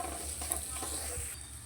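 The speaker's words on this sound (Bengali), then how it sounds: "মশলা থেকে যতক্ষণ না তেল ছাড়ছে মশলাটা খুব ভালো করে কষিয়ে নিতে হবে" Spice masala sizzles and fries in a pan while it is stirred, with steady close sizzling and soft scraping strokes.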